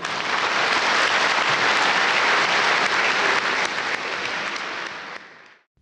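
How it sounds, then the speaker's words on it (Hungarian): Loud, sustained audience applause at an evening event in Hungary, a dense steady wash of clapping that holds for several seconds before tapering off and cutting out. "Kérem, szerető tapsukkal fogadják."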